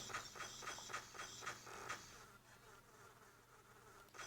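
Insect buzzing from a game, a faint high whine with a regular pulsing rhythm for about two seconds, then a steadier, quieter drone.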